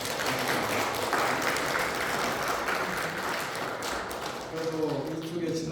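Warm applause from a church congregation at a Sunday worship service, sustained clapping filling the room for several seconds before thinning out.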